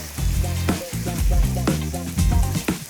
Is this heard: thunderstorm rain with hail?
no